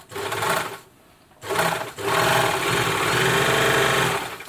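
A Babylock Jet-Air BLE1 serger overlocker whirs loudly up close: a short run, a pause, a brief burst, then a steady, sustained stretch of high-speed stitching with no voices.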